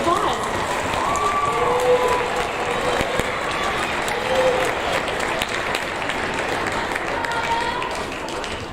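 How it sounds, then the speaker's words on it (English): Sixth grade awards ceremony audience applauding, a sustained wash of clapping from many hands that tapers slightly toward the end, with faint voices underneath. "Let's give them one more round of applause."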